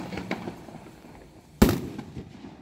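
A Top Gun firework cake at a fireworks expo fires a single sharp, loud report that rings out briefly, with fainter distant pops and crowd murmur before it.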